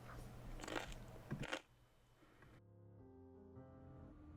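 Homemade apple chips are bitten and crunched up, giving dry, crisp crackles in quick bursts over the first second and a half before the crunching stops and music takes over.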